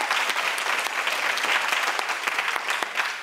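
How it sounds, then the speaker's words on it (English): Warm round of applause from an awards ceremony audience, dense continuous clapping with occasional sharper claps standing out, steady and full for the whole stretch. "It's a round of applause for Lorna."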